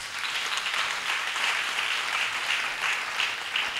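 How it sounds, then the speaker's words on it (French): Sustained audience applause for the panelists at a colloquium debate, a continuous even wash of many hands clapping at moderate volume with slight swells, no voices on top. "je voudrais vous demander d'applaudir encore nos panélistes une fois"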